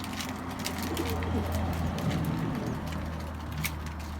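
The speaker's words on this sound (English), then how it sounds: "that's the pigeons there having a feed." Fantail pigeons coo softly while feeding, low repeated murmuring coos close by over a steady background hum, with light scratchy pecking and flutter sounds.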